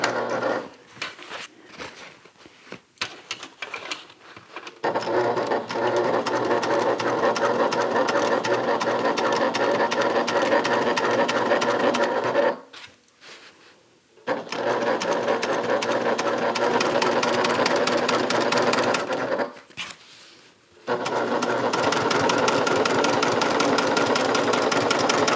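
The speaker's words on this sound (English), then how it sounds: "Basically, I'm just top stitching on the side seam" A sewing machine runs top stitching along the side seam of a fabric bag, in three long steady bursts of mechanical whirring, close and loud, separated by brief pauses with light handling clicks.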